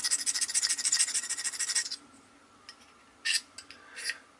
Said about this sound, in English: I'm starting to scrape some of it off